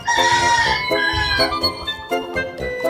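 Chicks (sisiw) peeping in a backyard, loud close high chirps repeating rapidly alongside clucking fowl, with no talk.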